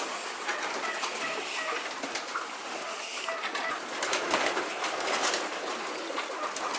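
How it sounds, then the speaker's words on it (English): Common pigeons coo inside a loft, several birds overlapping in soft repeated calls against a steady rustling background, fairly close, with no talking. "Bunch of just common pigeons, but they're fun."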